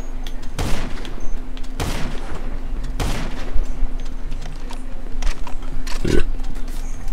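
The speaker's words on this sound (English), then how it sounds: "Am I even shooting at the right damn person?" Repeated gunshots ring out during a Los Santos shootout in a video game, sharp loud bursts arriving every second or so over a steady mechanical hum, with a heavier thump near the end.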